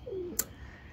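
In a loft, a pigeon gives a single soft, brief coo, faint and close, followed by a small click in a quiet room.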